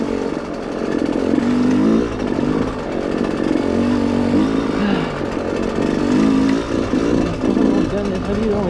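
A motorcycle rides a trail, its engine droning loud and close throughout with revving rises and dips as the rider slows; a voice talks over it.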